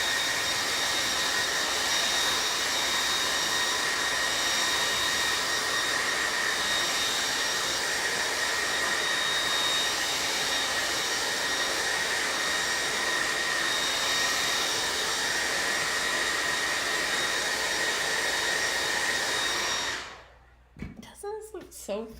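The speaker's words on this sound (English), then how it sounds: "You're gonna hear the blow dryer again." Blow dryer running continuously to dry paint, a loud, steady, roaring whoosh that holds for about twenty seconds before cutting off abruptly, leaving faint room noise.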